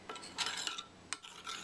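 Wasabi being stirred in a small bowl to dissolve its clumps while dulse seaweed soaks: a few soft, close scraping and clinking strokes in irregular bursts, with no talking.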